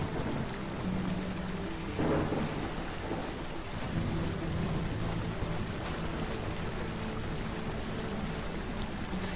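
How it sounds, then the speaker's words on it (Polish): A thunderstorm plays in the video game Robin Hood Sherwood Builders, with steady heavy rain and a low thunder rumble near the start, all loud and continuous with no voices. "Ja myślę, że jest burza i tyle"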